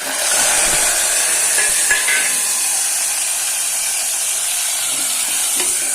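Crushed garlic and chopped tomato fry hard in a pan for sambar, a loud, dense, continuous hiss and crackle close up, with a few faint utensil scrapes and no voices.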